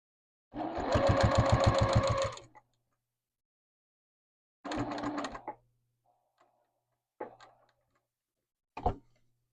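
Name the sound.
sewing machine stitching quilted name badge binding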